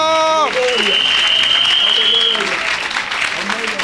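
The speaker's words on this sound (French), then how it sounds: "Acclame." Church congregation bursting into applause and cheering at a worship service, a steady loud wash of clapping with a preacher's amplified voice calling out over it at the start and fading beneath.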